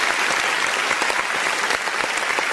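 Dense crowd applause with scattered cheering, steady and loud throughout with rapid overlapping claps and no speech.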